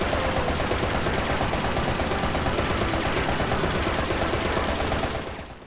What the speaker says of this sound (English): try shooting at a wall without aiming